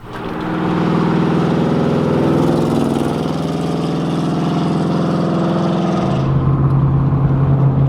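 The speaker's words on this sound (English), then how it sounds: "Well, car runs again." An abandoned Chevrolet Camaro Z28 engine runs steadily close by, a loud, continuous idle with a deep rumble that shifts to a lower, rougher tone near the end.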